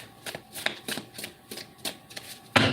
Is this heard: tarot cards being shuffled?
yes